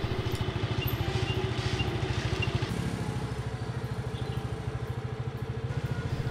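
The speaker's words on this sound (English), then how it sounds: "we used the chance to make some photos from us riding the scooters" A scooter engine hums with a steady pulsing putter, close by and fairly loud, holding an even idle-like rhythm throughout, on the streets of Hanoi.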